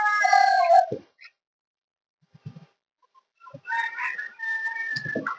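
Farm chickens of Giriraj, Vanraj and RIR breeds call loudly and close by in short separate bursts, with a crowing-like cry at the start and quieter clucks after a pause.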